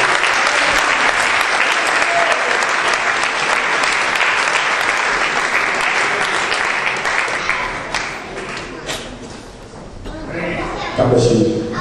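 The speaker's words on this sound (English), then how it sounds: "So we clap our hands to the Lord." A congregation at an apostolic church service in Vallejo, California in 2006 claps hands in a loud, dense wave of applause that thins out near the end before a voice speaks.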